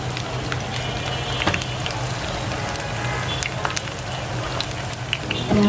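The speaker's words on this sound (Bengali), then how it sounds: "পেঁয়াজগুলো এখন ভেজে নিচ্ছি" Onions sizzle and crackle in hot oil in a home kitchen while iftar is prepared, a steady dense frying hiss throughout with a constant low hum underneath and scattered sharper pops.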